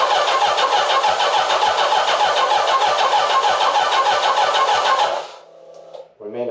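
A 40-year-old motorcycle engine runs loud and close right after starting, with a rough, rapid rhythm, then cuts out abruptly after about five seconds. Faint voices follow.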